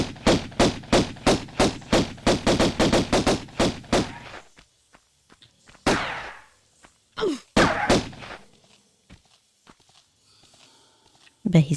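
Rapid burst of a dozen or more pistol shots fired in quick succession from Lara in the 1996 Tomb Raider 1 video game, followed by a few scattered, sharper reports and thuds after a pause.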